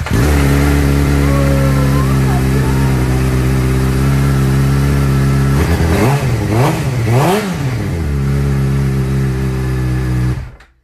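A motorcycle engine started after winter idles loudly and steadily close by, blips through a few rising and falling revs midway, then settles back before cutting off.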